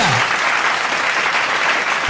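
Sustained clapping from a seated crowd at a Hindi comedy poetry gathering, dense and even from start to finish, with only a brief vocal trace at the very beginning.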